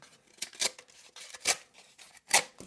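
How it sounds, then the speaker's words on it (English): A Vosteed Porc budget EDC folding knife with a flat grind slicing through cardboard, giving three short scraping, ripping strokes close to the ear with brief quiet gaps between them. "when cutting cardboard, don't cut perpendicular, but at an angle"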